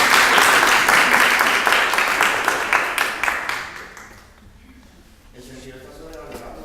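Audience applause breaks into a talk at a literature, linguistics and psychoanalysis jam session: dense, steady clapping from a crowd for about four seconds, then dying away to near quiet with faint voices afterward.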